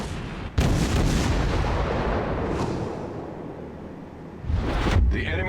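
Naval gunfire in World of Warships as a heavy cruiser's guns fire: two deep, loud booms, each trailing into a long rolling rumble, with battle noise continuing between them.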